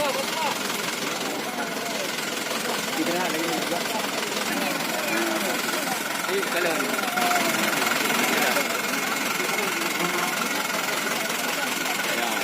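A motorcycle engine runs steadily at a post-flood charity event in Lhoksukon, North Aceh, in a busy outdoor setting with people chatting over it throughout.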